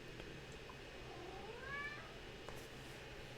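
A single cat meow rises and falls in the middle, quiet and fairly close over a low steady room hum, with no voices.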